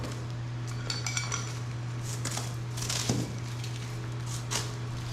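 Metal parts clinking and scraping as a stock muffler from a Comet 650 motorcycle is taken apart, with scattered knocks and rattles over a steady background hum.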